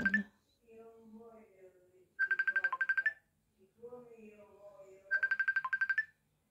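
Phone ringtone for an incoming call: two bursts of rapid, trilling electronic beeps separated by a short melodic phrase, close and clear, with a bit of talk at the start.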